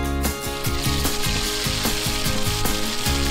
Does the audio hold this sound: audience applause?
no